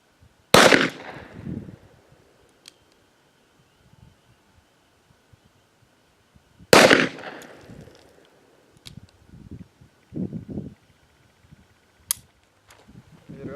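Two loud, sharp gunshots at an outdoor shooting range, spaced several seconds apart with a short echoing tail, and quiet talk and small handling noises in between.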